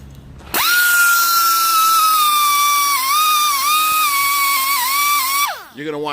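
Pneumatic air-powered wire brush spinning at high speed against a trailer hub surface, a loud steady whine that starts abruptly, wavers slightly under load, then winds down near the end.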